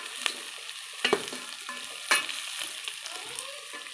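Onions frying in hot oil, with a steady low sizzle broken by a few sharp stirring scrapes of a spoon in the pan, close and fairly quiet, with no voices.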